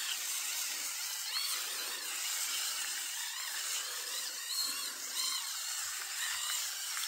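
A steady high-pitched motor whine from a Pitbull Gold electric shaver runs throughout, buzzing continuously with slight fluctuations, close and fairly loud, with no talking.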